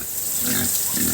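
A pig on a farm detachment grunting, two short low snorting grunts close by over steady background noise.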